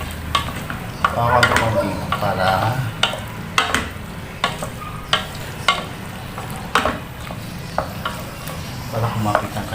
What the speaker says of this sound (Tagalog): Lagyan natin yung sauce.